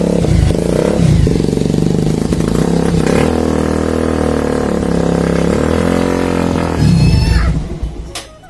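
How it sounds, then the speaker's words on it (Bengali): A superbike engine revs hard and loud close by, a sustained roar that rises and holds, then drops away and fades in the last second. "super bike"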